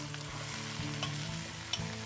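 An aubergine sizzles steadily in a preheated pan, cooked as part of plant-based enchiladas, with a close, continuous fry crackle and no voices.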